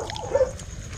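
A dog gives a brief, fairly faint vocal sound, a short whimper-like yelp, over background noise with no talk, during a meal of lapu-lapu.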